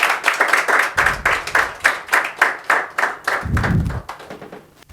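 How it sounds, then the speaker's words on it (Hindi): A class of schoolchildren clapping together in a chemistry lesson, a loud, rhythmic burst of hand claps in quick pulses that fades out near the end, with no speech. "इसके लिए ताली बजिए"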